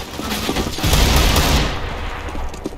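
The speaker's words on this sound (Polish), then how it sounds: "On strzela." Rapid automatic gunfire in CS:GO, a dense burst of shots peaking loud in the middle then trailing into scattered cracks and fading reverberation, with no voices.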